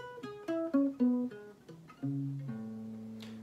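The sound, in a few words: guitar being played, untuned for years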